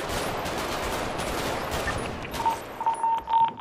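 Gunfire rattles in the GTA RP video game as a dense burst of rapid shots, loud and close, ending in a few sharper separate cracks.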